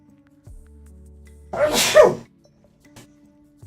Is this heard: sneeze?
yes